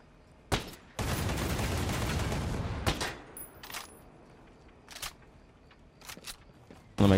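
Gunfire in Ghost Recon Breakpoint opens with a single sharp report, then a dense burst of fire lasting about two seconds, followed by scattered fainter shots and clicks, with one more loud crack at the end.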